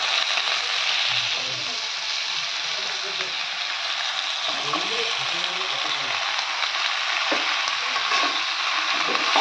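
Greens hit hot oil left from frying fish and are stirred, producing a loud, continuous crackling sizzle with soft scraping and shuffling throughout.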